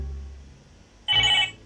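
A telephone bell rings once in a short, bright electronic trill lasting under half a second, sounding suddenly after a quiet low hum.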